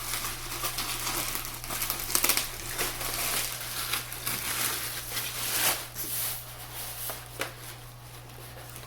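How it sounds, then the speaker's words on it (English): Plastic packaging of a Marineland Magnaflow 220 aquarium filter crinkles and crumples continuously as it is unwrapped close up, with irregular louder crackles throughout. "I'm going to go ahead and unwrap this and get started on setting this up"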